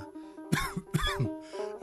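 Two or three short, rough coughs close up, spaced about half a second apart over a quiet background hum.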